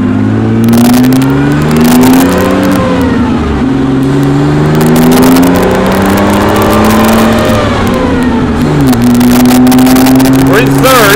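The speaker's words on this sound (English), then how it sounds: "this engine also, in addition to the usual torque, loves to rev" A 1959 Austin-Healey 3000 engine revs hard while driving, its pitch climbing and dropping through several rises with gear changes, loud and close from inside the car, as someone talks over it.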